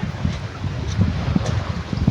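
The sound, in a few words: wind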